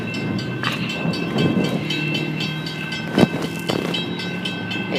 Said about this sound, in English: The lights and bells and gates are in action now.